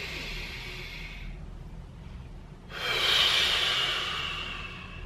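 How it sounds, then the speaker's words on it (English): Breathing during a mid-back mobility exercise: a long, hissing inhale fades to a brief pause, then a stronger, close, airy exhale rises and slowly tapers off, with no talking. "So inhale, then we'll exhale."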